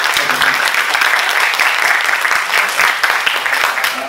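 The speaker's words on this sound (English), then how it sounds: "Okay, so shall we give a big clap?" Audience applause at a technical seminar, a steady dense clapping from a room full of people that holds at a fairly loud, even level throughout with no pauses.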